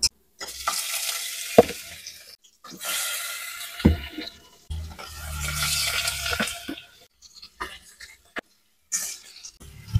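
Pork sizzles and stir-fries in oil with caramelized rock sugar, a steady frying hiss broken by brief pauses and a few scrapes or clatters close at hand, with no talk over it.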